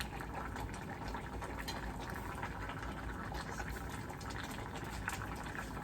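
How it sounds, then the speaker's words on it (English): A pot of green beans bubbling at a steady, vigorous boil, with a dense, continuous rumble of bubbles and no voices over it. "so we have our beans up to a pretty good temperature. They're boiling good."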